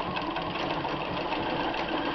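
A Bernina 1130 sewing machine runs steadily as it stitches a decorative snowflake pattern, a continuous close, even mechanical whir with rapid needle rhythm and no talk.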